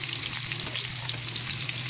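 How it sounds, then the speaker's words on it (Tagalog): Garlic, onion and ginger sizzle steadily in a hot pan of oil while being stirred for chicken adobo, a close, even frying hiss with small crackles throughout. "nagigisa na ako ng bawang, sibuyas at saka luya"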